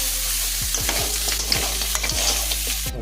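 Crab pieces fry in hot oil for a crab kuzhambu, with a continuous loud sizzle and repeated rhythmic scraping strokes of a spoon stirring in the pan, no voices.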